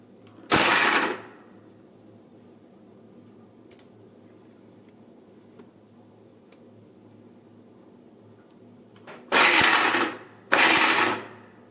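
Mixer grinder grating coconut, switched in reverse, sounds in three short loud whirring bursts, one near the start and two close together near the end, separated by a long quiet stretch of low room hum.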